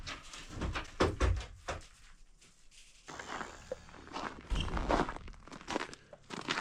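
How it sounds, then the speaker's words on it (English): Boots crunch through cold, dry snow at ten below zero outside an off-grid winter cabin, a run of close, crisp steps with a brief quieter pause midway before the crunching resumes. "You can hear the snow crunching."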